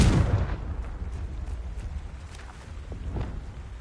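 A Confringo fire spell exploding in the game Hogwarts Legacy: a heavy, loud burst up front that decays into a rumbling, crackling tail with a couple of smaller pops.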